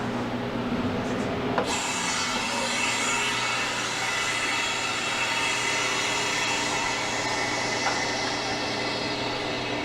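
A freeze dryer's drain valve opens with a sudden hiss of rushing air that starts abruptly and then continues as a steady, fairly loud broadband rush close by.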